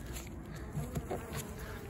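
Close, continuous buzzing of bees at a hive entrance with slight swells as individual insects pass near, a steady insect drone throughout.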